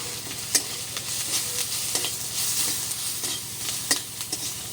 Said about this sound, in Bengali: নেড়ে চেড়ে সব মশলাগুলো আমি একটু হালকা করে ভেজে নিয়েছি।